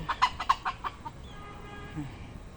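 Chickens in a backyard coop at a rural homestead give a quick run of sharp clucks at first, then fall to quieter background noise.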